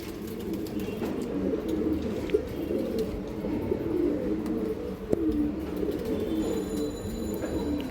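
Old-line pigeons at a breeder's loft coo in soft, overlapping murmurs throughout, a steady low chorus with a few faint chirps and flutters.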